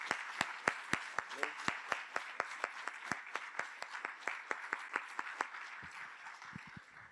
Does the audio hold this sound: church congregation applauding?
yes